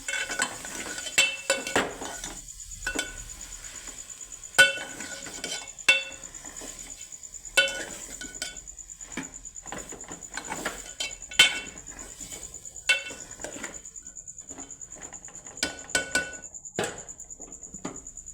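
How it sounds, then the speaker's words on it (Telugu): A spoon scrapes and clinks against a pan while ridge gourd curry is stirred, with irregular metallic taps over a faint steady background hum and no talking. "ఇలా కలపాలి అన్నీ కలిసేంత వరకు"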